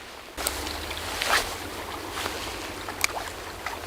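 Steady roar of strong wind buffeting outdoors at a fishing spot, with rumbling low gusts and occasional brief knocks, no voices.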